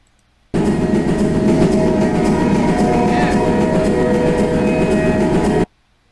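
A train in a video game rumbles and clatters steadily for about five seconds, a loud, continuous rolling noise that starts and stops abruptly.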